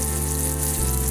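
Salt, ground roasted cumin and coriander and ginger paste frying in a pan, a dense steady sizzle, loud and close with no pauses.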